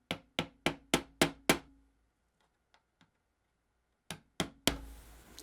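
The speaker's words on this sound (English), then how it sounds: "you take the lightest hammer you have, and you just tap those buggers in there" Sharp light-hammer taps on nails in a 1934 Grunow antique tube radio, six quick even strikes, a pause with two faint ticks, then a few more taps and a rougher scrape at the end.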